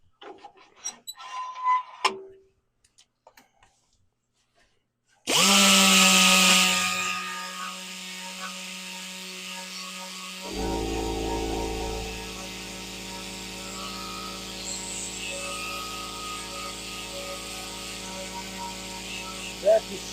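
A lathe spins a wood piece during woodturning while sandpaper is held against it, a steady loud whir that starts abruptly after a quiet opening and continues with a shifting hum and faint talk.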